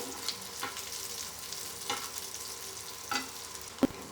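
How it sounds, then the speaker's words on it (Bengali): Chopped onions and slit green chillies fry in hot oil until browning, a soft continuous sizzle with occasional spatula stirs and a sharp clink near the end, no voices. "এগুলোকেও আমরা বাদামি করে ভেজে নেব।"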